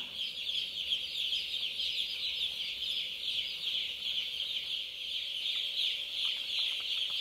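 Chickens in a precision-monitored livestock poultry house make a steady, dense chorus of clucking and chirping, continuous and moderately loud throughout with a constant ventilation hum beneath.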